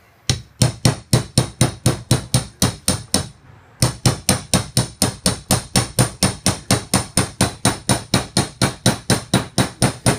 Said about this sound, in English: So now comes all the hammering.